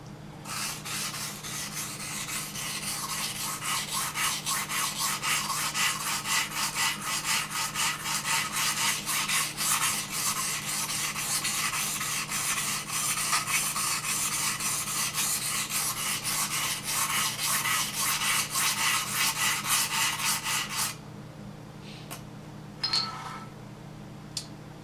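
A knife blade rubs back and forth on a coarse whetstone, producing a steady rhythmic rasping scrape for about twenty seconds before stopping, followed by a few faint handling sounds.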